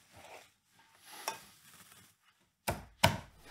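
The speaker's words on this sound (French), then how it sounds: "j'écrase de l'ail" Unpeeled garlic is crushed on a board for a Christmas potato gratin: two sharp, loud thumping cracks close together near the end, after softer quiet handling noises.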